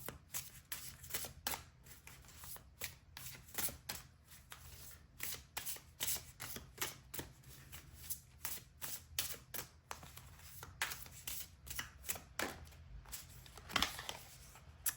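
Tarot cards are shuffled by hand in quick repeated riffles and soft slaps, a quiet, close papery rhythm that continues steadily without pause.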